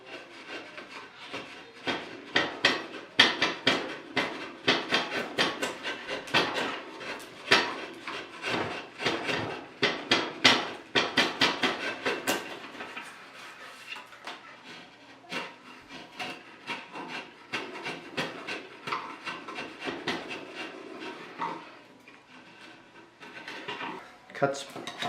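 A Harbor Freight chisel pares wood in repeated close scraping and shaving strokes with an uneven rhythm, and occasional taps and knocks between cuts.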